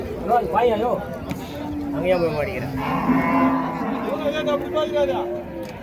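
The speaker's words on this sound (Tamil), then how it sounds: "அழகாக எடுத்துகிட்டு வந்திருக்காங்க பாருங்கள் மாடுங்க" Cattle at a bullock market in Uthangarai low in long moos, several calls overlapping, close and loud, with someone speaking over them throughout and crowd noise behind.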